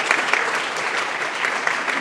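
An audience at a talk on kidney donation legislation claps in a short, even round of applause, moderately close and continuous throughout.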